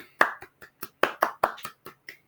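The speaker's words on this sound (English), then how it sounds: "And a round of applause" A small group claps a round of applause at a children's storytime, about ten sharp, close hand claps in an uneven rhythm, with brief gaps between them and no talking.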